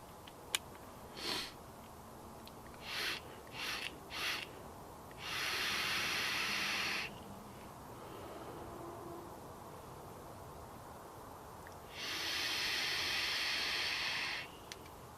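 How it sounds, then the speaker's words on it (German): Vapour from an e-cigarette exhaled outdoors in a forest camp, two long soft breathy hisses with a few short puffs and sniffs before them, quiet and close, without speech. "was dem einen seine Zigarette ist bei mir der Dampfer"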